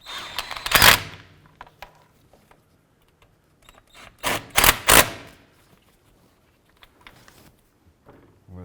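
Bolts on a 2005-10 Jeep Grand Cherokee control arm being snugged down with a hand tool, scattered sharp clicks and a few louder ratcheting bursts between quiet pauses.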